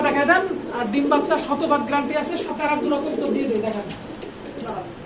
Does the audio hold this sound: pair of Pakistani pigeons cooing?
yes